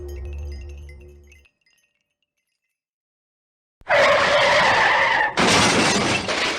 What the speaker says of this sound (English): Car wrecks.